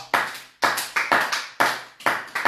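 A church congregation applauds in rhythmic waves, each loud burst of many hands clapping at once ringing out and fading in a reverberant room before the next.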